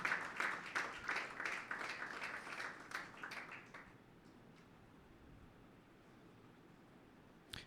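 A congregation applauds during a Sunday church service at SONG Church. The applause is faint and distant, holds for about four seconds, then fades into quiet room noise.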